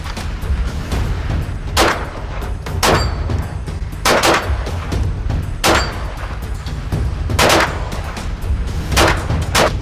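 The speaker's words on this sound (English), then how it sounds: "I'm gonna shoot now with gloves." Pistol shots fired outdoors during a rainstorm, a Sig Sauer, Walther or Smith handgun, crack out as about eight sharp, loud reports at irregular spacing over steady rain hiss and low wind rumble.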